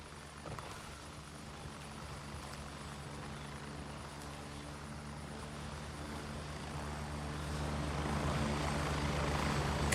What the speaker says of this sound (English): I got my own private helicopter.